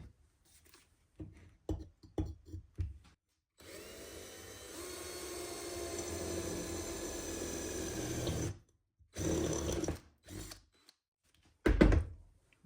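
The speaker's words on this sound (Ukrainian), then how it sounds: "Встановив свердло на 6 мм і спробуємо сверлити профільну трубу товщиною 2 мм." A 6 mm drill bit bores into 2 mm steel profile pipe, several short bursts of whirring and grinding, then one sustained drilling stretch of about five seconds, followed by more brief bursts, close and fairly loud.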